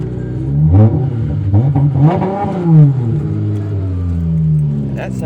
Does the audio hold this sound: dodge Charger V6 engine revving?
yes